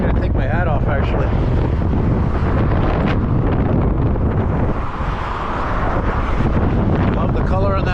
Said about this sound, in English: You can see it's pretty bad now, this wind.